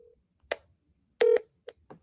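Touch-tone telephone keypad tones from a call placed on speakerphone: several short separate beeps, one longer tone near the middle, clear and fairly close, with no talking.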